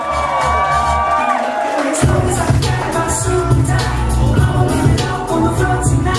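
Wedding guests at a reception cheer and whoop loudly for the groom during the garter moment, a dense crowd roar with shouts rising after a brief lull, close and sustained.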